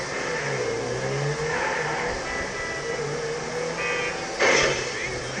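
A truck engine in a video game revs and roars continuously at close range, its pitch rising and falling over a steady mechanical drone, with a brief louder surge near the end.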